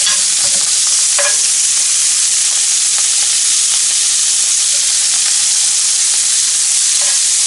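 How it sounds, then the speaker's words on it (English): Vegetables sauté in a hot pan just used for searing steaks, giving a loud, dense, unbroken sizzle and hiss with occasional faint stirring scrapes. "now I'm putting the veggies in, and we're just going to saute these"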